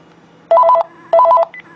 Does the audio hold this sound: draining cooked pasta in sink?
no